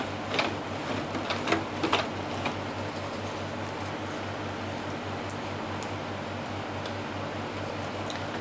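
A sewing machine stitches elastic onto a small summer jhabla dress, a fast steady mechanical chatter with a low rhythmic thrum and a few scattered clicks and taps early on.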